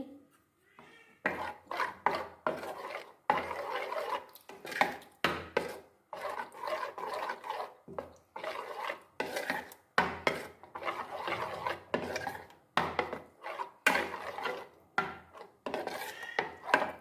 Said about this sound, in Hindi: अब इसमें हम 2 टेबलस्पून घी की डाल लेंगे और इसको भी हम अच्छे से मिक्स कर लेंगे।